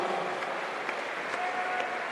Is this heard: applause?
yes